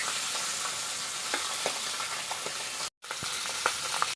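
Pabda fish fry lightly in hot oil in a pan, a steady close sizzle with occasional pops and stirring taps, broken by one brief silent gap.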